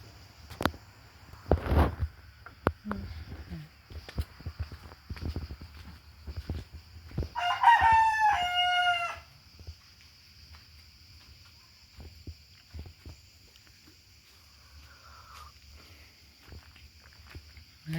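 A rooster crows once at moderate distance, a single rising and falling call lasting about two seconds, set against quiet outdoor ambience with scattered footsteps, knocks and rustling before and after.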